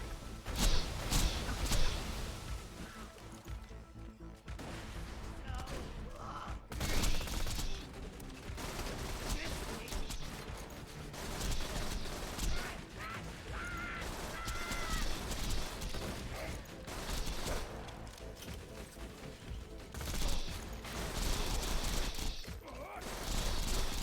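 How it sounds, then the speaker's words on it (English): Dense, continuous gunfire from turrets and weapons fighting assassins in the Borderlands 2 video game, with rapid overlapping shots and bursts running throughout at steady loudness, busy and layered, with no talk. "I chuck my turrets on opposite walls to distract them, kill Wreath first since fire sucks"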